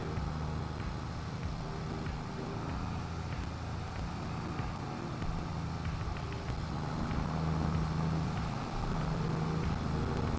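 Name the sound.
tractor engine in Farming Simulator 22 video game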